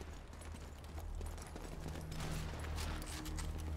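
Gunfire in the video game Sniper Elite 4, heard as a dense, continuous rattle of shots under constant background noise, with no speech.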